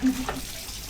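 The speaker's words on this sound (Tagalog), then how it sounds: "Si Daphne naman may binabanlawan pa." Brief splashing and sloshing of water, like laundry being rinsed in a basin, close and steady with a faint voice beneath.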